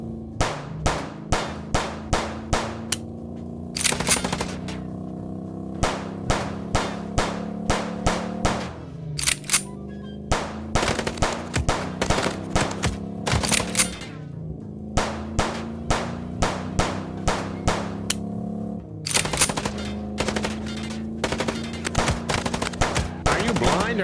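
Rapid gunfire from the video game Chicken Police, loud, repeated bursts of sharp shots in quick rhythmic volleys with metallic clangs, continuing throughout with only brief gaps between bursts.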